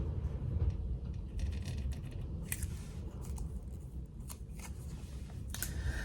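Scissors cutting through a piece of card to make a tag for a table favour box, a few crisp close snips scattered over a low background rumble.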